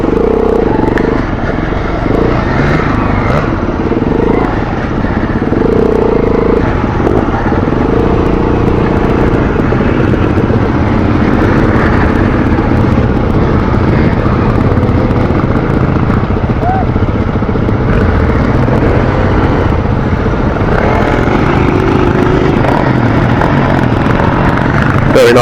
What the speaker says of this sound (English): Very nice bike, them Husqvarnas.